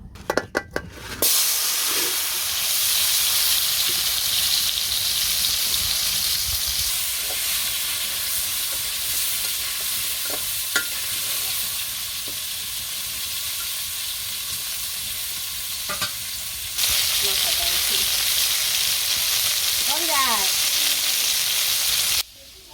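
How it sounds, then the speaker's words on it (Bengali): Continuous loud sizzling of sliced pointed gourd frying in hot oil, with occasional clinks of a utensil and a brief voice-like sound near the end. "পটল ভাজা হয়ে গেছে নামিয়ে নিই"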